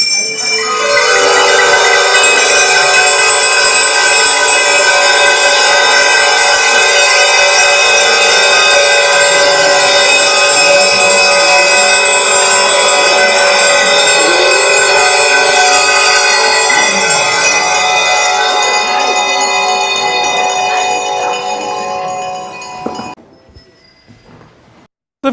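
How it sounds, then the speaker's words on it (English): A peace bell rung once, then a loud, bright metallic tone with many overtones sustains and slowly decays for over twenty seconds before cutting off, filling the space with no voices. "With the ringing of this bell, we celebrate the peace bell treaty."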